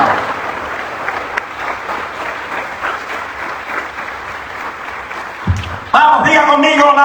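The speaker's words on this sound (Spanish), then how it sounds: "den un aplauso fuerte al Padre en esta mañana" A church congregation claps for the pastor during a Spanish-language service, with steady, moderately loud applause that breaks off near the end as a voice begins speaking over it.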